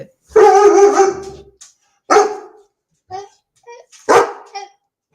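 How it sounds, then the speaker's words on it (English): A dog barks in several short bursts, one long loud bark followed by shorter yips and barks at close range, with pauses between them. "He's having a little bark, aren't you?"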